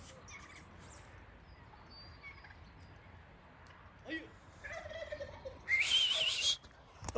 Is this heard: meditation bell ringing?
no